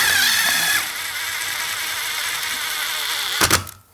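Self-tapping screw driven by a powered driver through a steel reinforcement into a PVC window frame hinge, a steady grinding whir lasting several seconds, then a sharp close clunk as it seats and the motor winds down.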